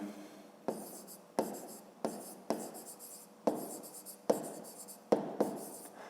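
Chalk or pen strokes from handwriting during a fifth-grade math lesson, arriving as a steady series of short scratchy bursts separated by brief pauses, close and clear with no talking.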